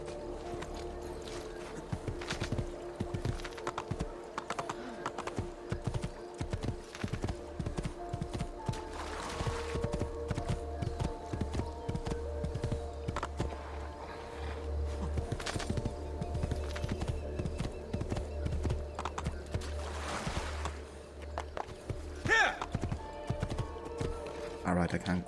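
Horse hooves clip-clop steadily through Assassin's Creed II, a continuous rhythmic trot with the odd whinny, while someone talks over the top throughout.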